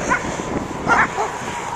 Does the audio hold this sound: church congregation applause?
no